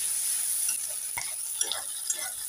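Chopped onions and whole garam masala fry in oil and are stirred now and then, producing a close, even sizzle broken by a few light utensil clicks.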